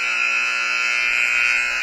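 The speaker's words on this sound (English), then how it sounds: "The buzzer has buzzed," A loud, sustained electronic buzzer at a girls' high school district basketball game blares steadily for nearly two seconds, with faint gym noise underneath.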